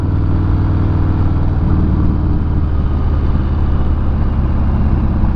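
A Harley-Davidson Fat Bob 114 motorcycle fitted with a Vance & Hines exhaust, riding along with a loud, continuous low engine rumble and steady road and wind roar, no voices.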